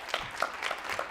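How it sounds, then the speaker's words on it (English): Scattered audience applause at a digital marketing conference, a thin spread of claps at moderate level with a few sharper hits, fairly steady throughout the short burst. "a round of applause for Digital Marketer for putting together a great lineup"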